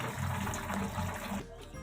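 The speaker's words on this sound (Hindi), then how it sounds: "पानी निकाल देंगे इसका।" Water from boiled pasta pours out through a strainer in a home kitchen, a steady, full rushing gush that drops off sharply near the end.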